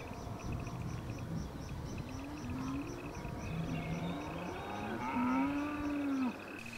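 Several cattle low and moo nearby among paperbark trees, long drawn-out calls overlapping against a steady outdoor background with faint bird chirps.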